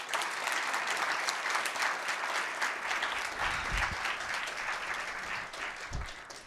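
Steady applause from an audience at a corporate leadership talk on gender diversity follows the end of a speech, dense and continuous, fading slightly toward the end.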